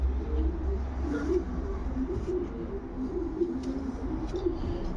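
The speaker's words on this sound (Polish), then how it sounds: "To jest gołąb rozpłodowy oczywiście." Breeding pigeon cooing softly in a loft, low rounded coos repeating at a steady pace over a constant background hum, fairly close, with no talk.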